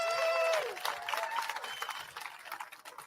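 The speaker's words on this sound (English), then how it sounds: "Could you please clap?" A crowd claps at an outdoor Alberta independence rally at the Alberta Legislature. The clapping is loud at first, with a few high whistle-like tones, then thins and fades over about three seconds.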